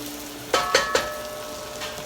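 A spoon scrapes pork chops sautéing in a pot, giving three quick scraping clacks close by in a quick row and then one lighter touch, over a faint steady background hiss.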